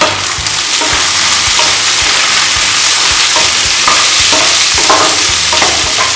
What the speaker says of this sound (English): I'm going to saute this on really high heat